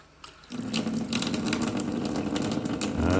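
An Insinkerator hot water tap with a repaired boiler turns on after a short quiet moment and runs in a steady, close rush of water into the sink.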